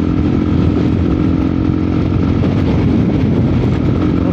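A 2024 KRY 200 dual-sport motorcycle engine drones loudly and continuously while riding from Bacolod City to Escalante City in strong wind, close by, with rough low rumble and rushing wind over the whole stretch.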